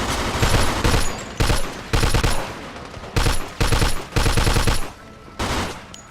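Heavy gunfire in the crime video game Mafia II, sustained bursts of automatic fire in rapid clusters with short pauses between volleys, loud and continuous throughout with no speech.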